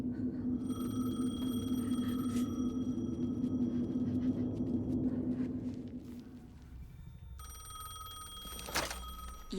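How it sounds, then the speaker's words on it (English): A telephone rings in Alan Wake 2 with a steady electronic tone, repeating over a low droning rumble that fades partway through, leaving faint tones and a few clicks. "The phone again."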